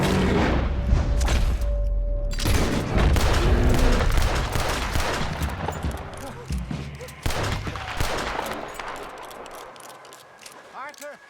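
Gunfire during a chaotic Red Dead Redemption 2 fight, with rapid overlapping shots and booming blasts crackling loudly for several seconds, then thinning into scattered reports, while frantic voices shout over the shooting.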